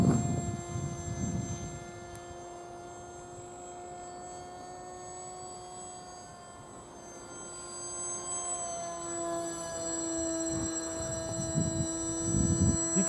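The motor of a Beta 1400 model airplane hums steadily with a high, whining drone and stable harmonics, with gusts of wind buffeting the microphone at the start and end.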